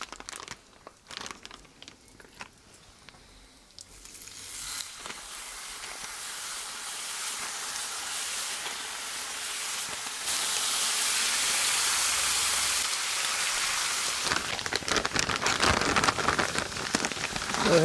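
Hash browns and hickory smoked bacon hitting an oiled Blackstone griddle, crackling bursts giving way to a loud, steady, rain-like sizzle that swells and stays dense throughout, no voices.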